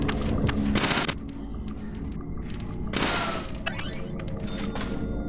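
Bursts of rapid gunfire aimed at an enemy in Deadly Premonition, two loud volleys separated by quieter thuds and single shots, close and sharp.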